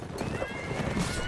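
A horse whinnies and neighs close up in the medieval combat game Mount & Blade: Warband, a short sharp cry over busy battle noise.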